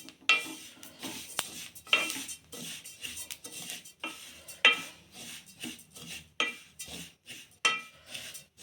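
Sesame seeds roast in a pan while a spoon stirs and scrapes against the metal, giving close, irregular clinks and scrapes with a faint crackle underneath.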